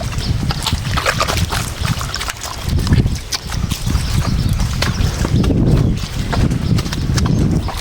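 Bullocks plod along a muddy farm path, their hooves squelching and clopping in a steady, close, continuous rhythm with wet, sloppy ground noise and no talk.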